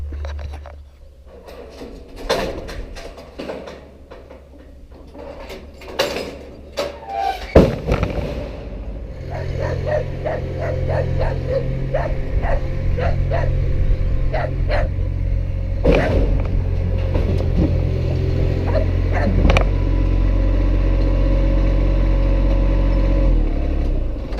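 A Kubota ZD1211 zero-turn mower fitted with Oregon blades: a few sharp clicks and knocks, then the engine settles into a steady, loud droning hum that carries on to the end.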